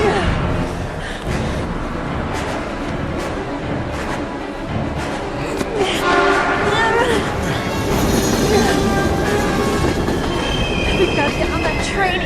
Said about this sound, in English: We've got to get on that train, Ethan.